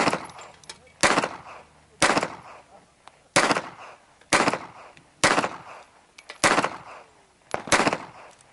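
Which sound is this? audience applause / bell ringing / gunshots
gunshots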